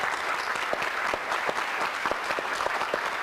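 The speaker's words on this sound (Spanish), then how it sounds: "démosle un gran aplauso a nuestros 5 fotógrafos" Steady, dense applause from an audience honoring five photographers at the opening of a photojournalism exhibition and debate, sustained and even throughout without talk.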